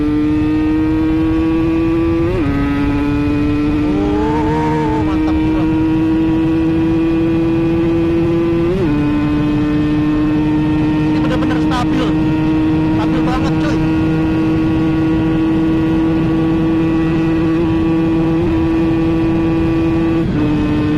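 An Aprilia RS 125 two-stroke motorcycle with a Rotax-built engine, ridden on a road, holds a steady loud harmonic drone with brief shifts and revs throughout, no talk over it.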